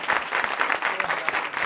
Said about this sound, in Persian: یه بار تشویق کنیم تیمور رو برای یه همچین چیزی، نه؟